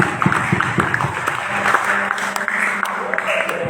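Audience claps at a book-discussion gathering, a crisp scattered patter of hands over a few seconds, mingled with murmuring voices and some talk.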